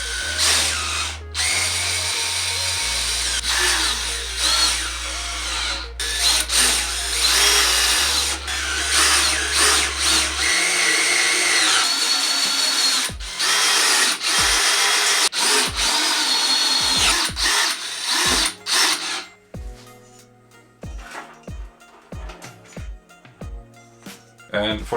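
A power drill drives long M5 30 mm screws into the frame of a Creality Ender 5 Plus 3D printer, a string of loud whirring bursts of varying length with short pauses between, later sharper, shorter pulses.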